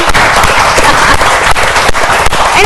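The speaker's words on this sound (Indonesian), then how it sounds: "Tepuk tangan dulu dong." Audience applause for a tech community at an innovation event in Surabaya, a dense, loud wash of clapping that runs steadily through the whole stretch with no voices.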